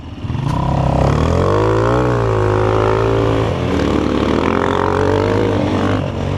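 A Chinese enduro motorcycle engine roars loudly and close at full throttle, its pitch climbing, dipping and rising again in one continuous pull, with no voices over it.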